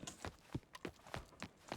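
Horse hooves clip-clopping in a Gold Rush roleplay video game, a quick, even run of soft, muffled hoof strikes, about six beats, faint and close.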